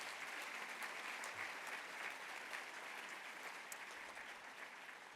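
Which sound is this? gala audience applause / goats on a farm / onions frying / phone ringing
gala audience applause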